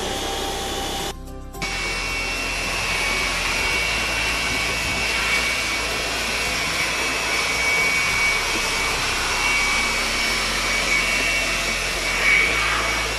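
A high-powered air blower drying air-conditioner parts roars steadily and close for the whole stretch, a dense whooshing hiss after a brief cut near the start.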